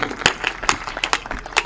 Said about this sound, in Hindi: इस बच्चे के भविष्य के लिए जोरदार तालियां बजाइए